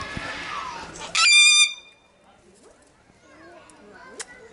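Parrots in a zoo's immersive aviary give a sudden loud harsh squawk, followed by quieter scattered chirps and calls, with people talking nearby.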